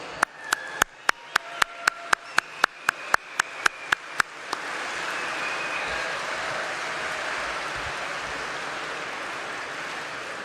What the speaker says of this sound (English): Please stand up and let's give them all a round of applause.